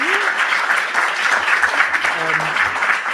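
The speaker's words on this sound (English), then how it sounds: "please help me with a warm round of applause for our wonderful authors tonight" An audience at a library author event gives a warm round of applause, sustained and fairly loud, with a brief voice over the start and faint talk near the end.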